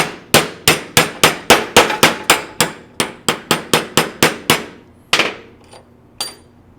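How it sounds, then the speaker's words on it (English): Steel punch hammered against a piston wrist pin from a Stihl BR 700 backpack blower engine, the piston propped on a socket: about eighteen sharp, close metallic taps in a steady quick rhythm, then two slower, heavier blows ringing out alone. "I'm just going to go ahead and knock this wrist pin through the piston"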